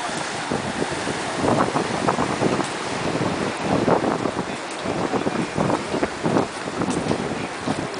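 Wind and surf at the Ocean Beach Pier in California, heard from the pier: a steady broadband rush with repeated swells of breaking waves, loud and continuous with no voices.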